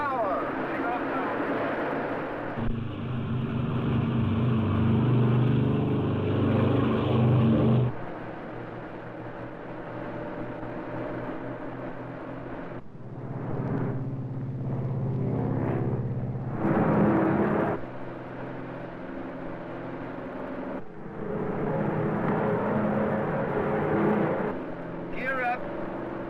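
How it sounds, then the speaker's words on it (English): Small aircraft engine run up to takeoff power, a loud steady drone that swells and shifts in pitch as the plane accelerates, with cockpit voices talking over it at intervals. "Okay, here we go. Ready for takeoff. Takeoff power. Takeoff now."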